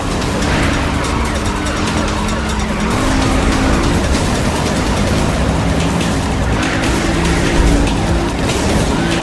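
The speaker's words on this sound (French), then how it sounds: "Je percute le pilote." A car in the Need for Speed Rivals racing game rams another driver. The engine roars loud and continuous with shifting pitch, and tire noise runs through it. No one talks.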